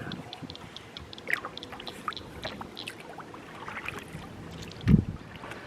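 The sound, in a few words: paddling a canoe on water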